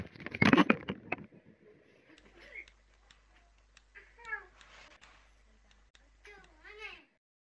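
A pet cat meows several times with rising, wavering cries, near and fairly clear, after a loud burst of a voice at the start; the rest is quiet room tone between the meows during a Rocket League gaming session.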